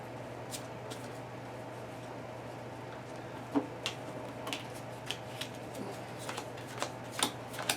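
Playing cards for the Lord of the Rings card game are shuffled by hand, a soft continuous riffle with scattered sharp clicks and snaps, close but quiet over a faint steady hum.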